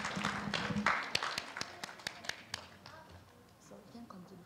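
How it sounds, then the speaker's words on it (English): At a Kissimmee Parrots induction service, a small group gives a round of applause for inductee Kiki: a few sharp, fairly close claps at a steady beat that fade out, with people talking under and after them. "So give her a round of applause"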